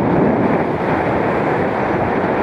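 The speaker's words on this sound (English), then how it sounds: "But it's one of those windy days." Steady, roaring wind at a caravan campsite in Galloway in May, buffeting the microphone with a constant loud rumble and no pauses.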